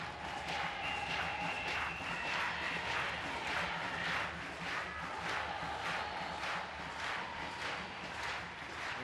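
A stadium crowd at a women's field hockey international between New Zealand and Argentina keeps up a continuous roar of cheering and rhythmic chanting, broad and distant, with a commentator talking over it.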